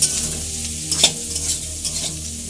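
Carrots and beans with salt are stirred in a hot pan for Bengali-style prawn chowmein, giving a close, steady sizzle with a sharp scraping stroke of the spatula midway and softer stirring scrapes after.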